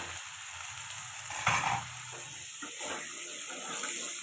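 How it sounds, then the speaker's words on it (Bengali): Vegetables hit hot oil with bay leaves, dried chili, kalonji and whole cumin tempering in a pan, giving a soft sizzle with a sharper burst of crackling partway through, quiet and close. "আমি আর একটু তেল দিয়ে দুটো তেজপাতা, শুকনো লঙ্কা, কালা জিরে, গোটা জিরে ফোড়ন দিয়ে সবজিগুলো ঢেলে দেব।"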